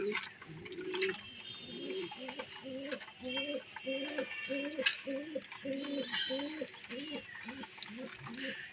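Pigeons coo in a steady, repeating rhythm nearby, soft and low, while small birds chirp faintly in the background.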